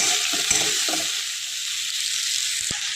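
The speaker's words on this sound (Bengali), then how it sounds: "আলুগুলো হালকা করে ভেজে নিয়েছি।" Potatoes frying in oil in a pan, a steady bright hiss of sizzling throughout, with a few soft stirring knocks near the start and a brief clack toward the end.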